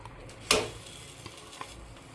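Horse gram sambar sizzling and bubbling in a pan: one sharp spatter burst near the start, then soft crackling and small pops alone at close range.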